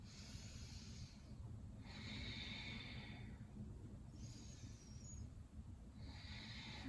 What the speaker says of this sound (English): Stick with it, ujjayi breath.